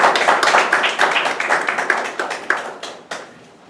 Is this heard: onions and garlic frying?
no